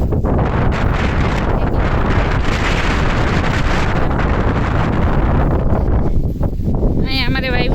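Strong wind roars continuously across an open cotton field on a village farm, buffeting the microphone with a heavy, unbroken rush; a voice breaks in briefly at the end.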